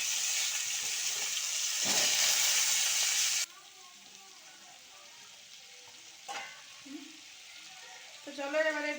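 Cauliflower florets with turmeric and salt frying in hot oil: a loud, steady sizzle for a few seconds, then a softer crackle and stirring while a voice talks.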